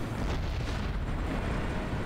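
A loud, rumbling blast roars through a Crysis firefight in the woods, dense and sustained for about two seconds with no clear break.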